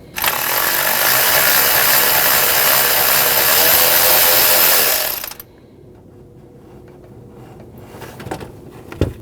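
A 10mm bolt comes off the coil bracket of a Nissan NV2500 during an ignition coil job. A loud, steady power-tool whir runs for about five seconds and stops abruptly, followed by quieter handling noises and a few small clicks.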